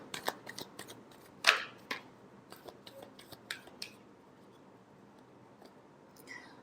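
Tarot cards being shuffled by hand, soft close papery riffles and flicks in scattered bursts, one sharper snap of cards early, quiet overall with no speech.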